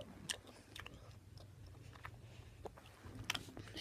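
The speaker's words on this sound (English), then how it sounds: "a lot of chewing up in here" Close, quiet chewing and biting with soft crunchy clicks scattered irregularly over a low background hum.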